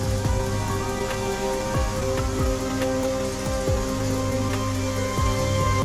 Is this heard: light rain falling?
yes